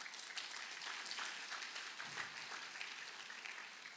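A church congregation claps its hands together in steady, sustained applause lasting several seconds, dense and moderately loud from a crowd throughout.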